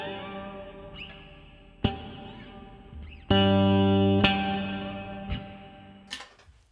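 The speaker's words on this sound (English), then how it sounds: "Sliding harmonics are always great." Sparse notes ring out from an Alembic 8-string fretless Series II bass, then bell-like sliding harmonics slide and shimmer with echoey effects, separated by short gaps and sharp attacks.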